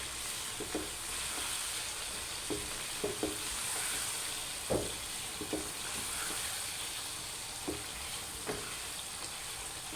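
Salt and chili get stirred into a sizzling mixture in a pan. Frying hiss runs continuously, and a spoon scrapes and clinks against the pan now and then, close and moderately quiet.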